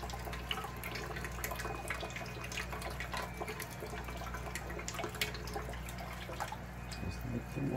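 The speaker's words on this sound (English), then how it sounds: "Just let the water flow." Steady running water splashes continuously from a tap into a sink, with scattered drips and small splashes throughout, fairly quiet and close.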